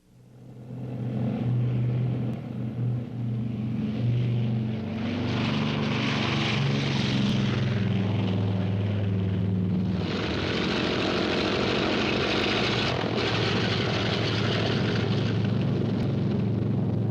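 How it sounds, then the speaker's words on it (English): World War II propeller warplanes fly over Tarawa in a mass raid, a loud, continuous multi-engine drone with a steady low hum that swells and thickens into a denser roar partway through, with no voices. "Against 290 Japanese acres, we launch 200 planes."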